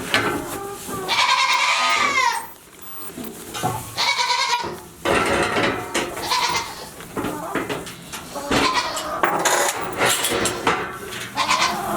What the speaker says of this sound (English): We have got to feed these goats, otherwise no one will be able to hear what we're talking about